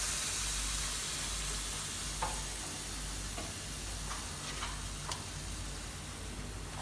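Chicken burger patties with coriander sizzle faintly in a pan, a soft steady hiss with a few light ticks and taps of utensils, no voices.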